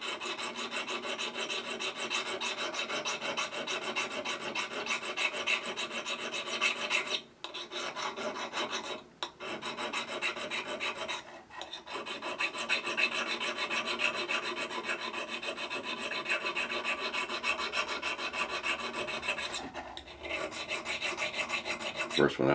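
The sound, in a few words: diamond needle file filing a gouge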